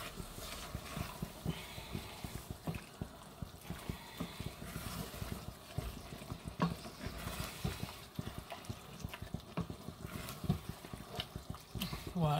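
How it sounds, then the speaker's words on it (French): A pan of thickening food being stirred, giving soft repeated scraping and wet clicking strokes in an irregular rhythm, quiet and close, with no talking. "On mélange bien."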